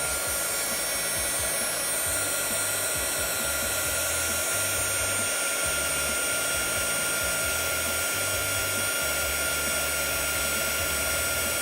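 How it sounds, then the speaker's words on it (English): An embossing heat tool blows a steady, fairly loud whirring hiss with a constant fan drone, running alone without talk for the whole stretch. "I'm going to take the heating tool and turn it on."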